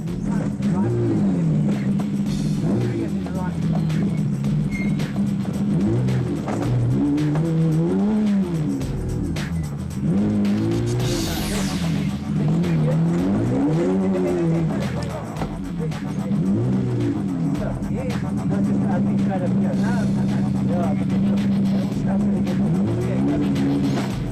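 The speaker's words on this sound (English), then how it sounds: "Gingerly feeling their way along a tricky section of route were Mark Corbett and Rudy Balzar in the Century Racing CR2." Century Racing CR2 off-road race car picking its way through a tricky section of the Magalies 400 route, its engine revving up and down in uneven surges under a steady narrating voice.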